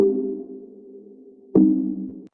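Two synth pluck notes: a sustained tone fades slowly, then a sharp, brighter pluck attacks and decays before cutting off.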